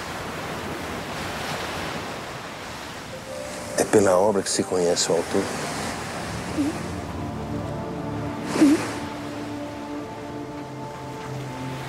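Ocean waves wash on a beach, a steady surf roar with wind, while someone talks over it.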